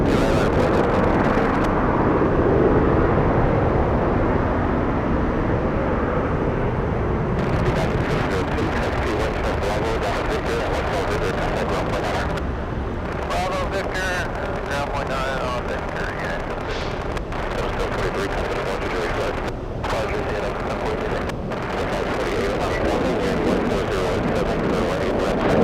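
Southwest airliner bound for Denver at Atlanta Hartsfield-Jackson airport, a loud rumbling jet roar with gusty wind buffeting across the microphone, the noise swelling and shifting steadily throughout.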